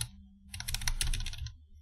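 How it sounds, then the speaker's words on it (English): Fingers tapping the arrow keys on a computer keyboard in a quick run of light plastic clicks, close and clear, with no talk over them. "Just click on the value and use the arrow keys to move it pixel by pixel"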